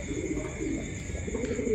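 Thai Titan pigeons cooing softly and steadily at close range, a low murmuring coo that continues through without pause, with no talk.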